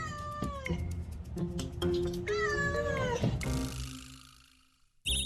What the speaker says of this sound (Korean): 그냥 진짜 야옹이에요